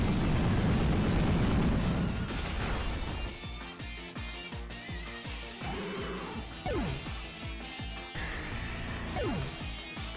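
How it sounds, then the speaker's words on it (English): Explosion effect from a Pokémon video game battle, a loud booming burst followed by rumbling, crackling debris and several sharp game sound hits, with no talking. "Explosion."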